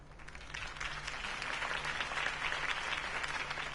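Audience applause fills a live Batman stage show, a steady dense wash of clapping from a large crowd, sustained and fairly loud throughout with no voices on top.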